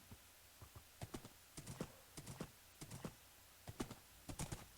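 Clip-clop of a horse's hooves in the Minecraft video game, a steady run of light clattering steps, fairly clear and close with no talk over it.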